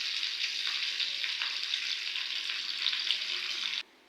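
Curry leaves with sesame and mustard seeds crackle and sizzle loudly in hot oil, a dense, steady frying hiss that stops abruptly at the end.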